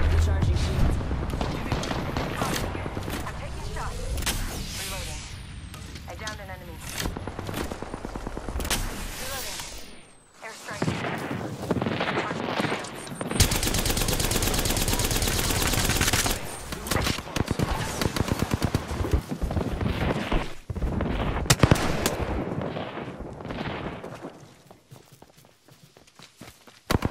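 Gunfire and movement in the shooter Apex Legends: rapid automatic bursts, single shots and running footsteps come close and loud in waves, with game voice callouts speaking over the action.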